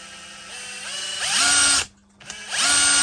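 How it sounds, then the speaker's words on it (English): A chunky, heavy Bosch impact driver with an intermittent fault whirs up in rising steps to a high whine, cuts out abruptly, then spins back up, close and alone. "it's a very chunky impact driver, very heavy"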